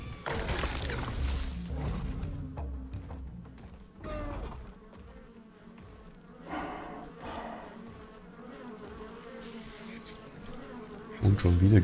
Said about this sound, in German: Schon wieder Gesumme hier überall.